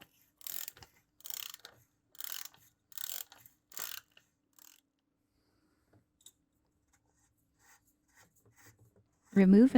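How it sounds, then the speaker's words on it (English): An oil filter wrench on a 3/8 ratchet loosens the oil filter housing on a 2018 Toyota Highlander, giving five short, evenly spaced ratcheting bursts up close, followed by quiet with faint handling noises. "we use our Motivex oil filter wrench attached to our 3/8 ratchet to remove the oil filter housing."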